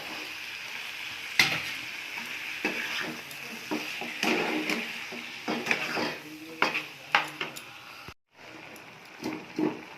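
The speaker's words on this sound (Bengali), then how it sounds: "মশলাটা কষা হয়ে গেছে, লোটে মাছটা দিয়ে" Lote fish, Bombay duck, frying in a cooked spice masala gives a soft, steady sizzle, with scattered utensil clinks and scrapes against the pan and a brief cut near the end, no speech.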